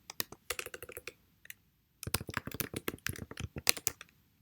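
Code being typed on a computer keyboard: rapid, close clicking keystrokes in two bursts separated by a short pause, crisp and fairly loud with no talking.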